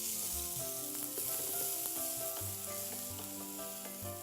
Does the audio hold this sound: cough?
no